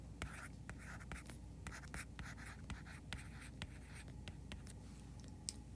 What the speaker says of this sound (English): I told you I can't talk and write.